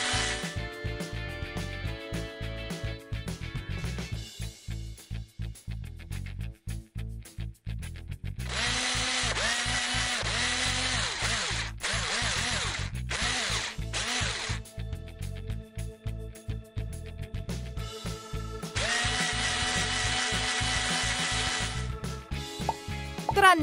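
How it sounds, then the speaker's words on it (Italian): Repeated bursts of a power drill boring through polystyrene into wood for a floating raft, several close, loud runs separated by short pauses, with light knocking between them. "Trapanano ogni pezzo di polistirolo nel legno, in ogni angolo."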